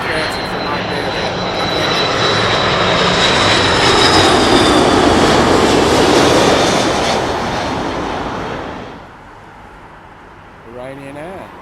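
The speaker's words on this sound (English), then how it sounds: "It's the Airbus A330 from Iberia." A loud, steady roar from the jet engines of an Iberia Airbus A330 wide-body fills most of the stretch, fading off near the end to a quieter background.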